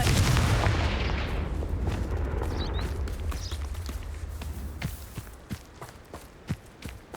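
The Confringo blasting spell in Hogwarts Legacy explodes with a loud, close boom that rolls away slowly. Light footsteps and small crackles follow as the blast fades.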